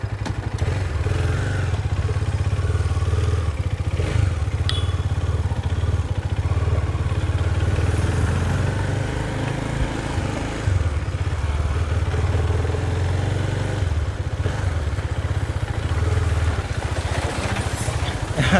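A motorcycle ridden on an off-road track, its engine droning steadily and loudly throughout with rattling clatter from the bike, no voices.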